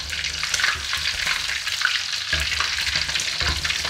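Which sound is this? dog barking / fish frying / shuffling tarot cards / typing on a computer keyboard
fish frying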